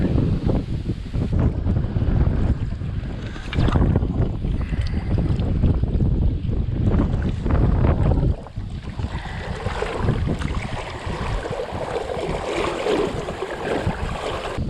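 Strong wind gusting across open water during eel fishing, heavy rumbling buffeting on the microphone with choppy wave wash, loud and continuous, easing slightly partway through.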